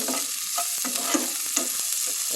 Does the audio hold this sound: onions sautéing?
yes